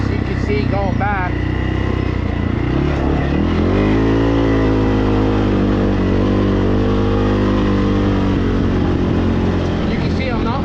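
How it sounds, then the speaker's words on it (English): A CFMoto ATV fitted with Elka shocks ridden off-road, its engine droning loud and close and climbing in pitch as it speeds up, then holding a steady roar throughout. "You can see I'm not fighting the ATV. I'm just pointing it and it's going"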